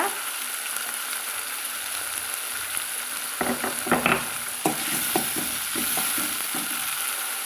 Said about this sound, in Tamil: தக்காளி ஓரளவுக்கு நம்மளுக்கு மசிஞ்சு வர அளவுக்கு வதக்கிக்கலாங்க